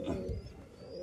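A domestic pigeon coos low and soft in a loft where young birds are being raised, a brief murmuring call close by with faint background noise and no talking.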